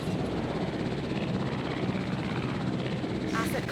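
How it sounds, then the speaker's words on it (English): Transport helicopter in the video game Jurassic World Evolution, a steady droning rotor and engine hum held at even loudness throughout, with a brief higher game sound near the end. "And I think we do have the upgraded transport helicopter speed now."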